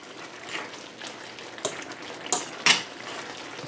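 Chicken and steak taco filling stirred in a pot at a rolling boil, with soft scraping and a few sharp utensil clicks against the pan over a steady bubbling hiss, close and fairly quiet.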